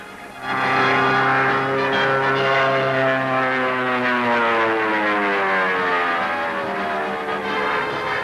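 A 1941-era propeller aircraft coming in to land, a loud sustained engine drone close by with steady tonal harmonics that shift in pitch as it passes.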